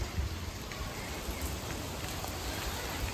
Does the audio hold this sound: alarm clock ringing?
no